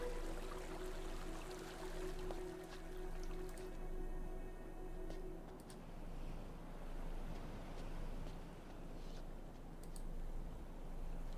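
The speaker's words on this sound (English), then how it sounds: "And we've got water flowing in down all three channels now." Steady rushing water pours down stone channels in Myst IV: Revelation, a continuous soft wash with faint tones fading out midway, no voices.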